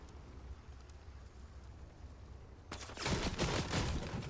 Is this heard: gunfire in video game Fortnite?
yes